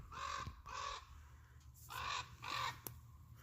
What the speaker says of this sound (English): And the birds won't shut up.